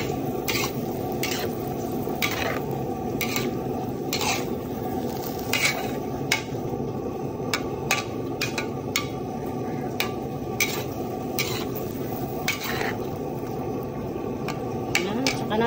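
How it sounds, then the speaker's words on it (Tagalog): Pinakbet vegetables with chili are stirred in a pan. A steady, rhythmic scraping of a utensil against the pan repeats over a low sizzling hiss and continues throughout at moderate loudness. "Tapos, halo-haloin pa natin yan guys."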